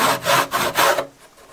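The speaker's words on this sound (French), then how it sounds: "une petite finition à la scie pour assurer la profondeur" A hand saw rasps through wood in four quick back-and-forth strokes, close and loud, then stops, finishing a slot to depth.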